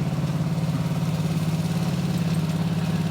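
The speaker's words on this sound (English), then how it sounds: "That is mower number 2. Mower number 2." A lawn mower engine runs in the background outdoors, a steady low drone with an even rhythmic pulse, moderately faint and alone.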